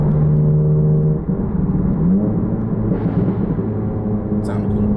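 A car with an APR engine tune hesitates and stumbles while driving, heard as a close steady cabin drone with engine tones that waver, drop and pitch up unevenly, with speech over it.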